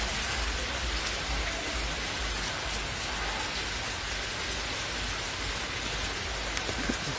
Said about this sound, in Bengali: আমি আজকে কেমন আকাশে কেমন বৃষ্টি হচ্ছে দেখাচ্ছি